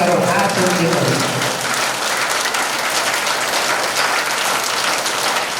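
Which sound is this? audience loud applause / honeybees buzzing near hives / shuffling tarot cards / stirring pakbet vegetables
audience loud applause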